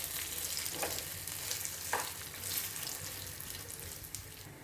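Coconut pieces fry with lentils in a pan, making a soft, continuous sizzle with a few brief stirring scrapes, faint and close.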